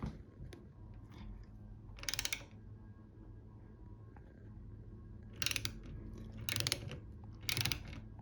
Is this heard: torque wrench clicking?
yes